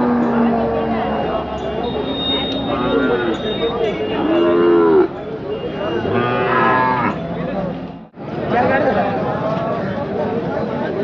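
Cattle moo repeatedly at the Saturday Chakan bull market, several long, loud calls from nearby animals over a constant crowd murmur and people talking.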